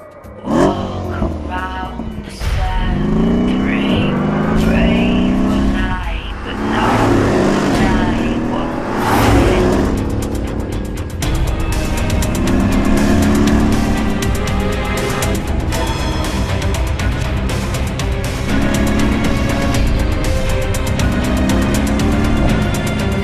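A 2017 Mercedes-Benz E300 car drives with a steady, loud engine drone and road noise throughout, including a brief rise in revs early on.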